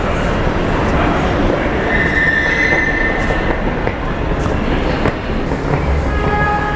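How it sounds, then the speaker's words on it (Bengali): A metro train at a station in Chennai rumbles loudly and continuously, with rail clatter and a brief high wheel squeal partway through, close and steady with no voices. "Metro station."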